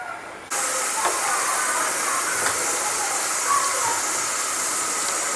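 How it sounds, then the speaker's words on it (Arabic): Sliced onion frying in a little oil in a pan, a steady loud broadband sizzle and hiss that starts abruptly and holds evenly throughout, with faint occasional pops. "هنا عملت دي مقله درت فيها شويه زيت وبصله تكون مليحه"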